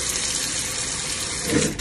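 Tap water running steadily into a bowl of crabapples mixed with salt and vinegar, a continuous broadband rush that swells slightly near the end as the bowl fills.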